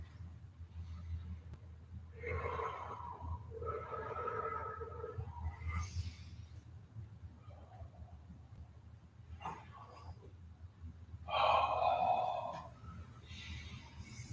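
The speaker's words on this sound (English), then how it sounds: "Breathing through your stretch." Slow, deep breaths drawn in and released during a yoga stretch in a library class, coming as soft airy swells separated by quiet pauses, with a stronger breath near the end.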